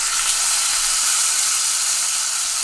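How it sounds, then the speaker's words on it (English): A sous vide steak searing in a hot pan, giving a steady, bright hiss and sizzle with no other sounds. "All we're going for is crust, and it'll probably just take like a minute aside in the pan."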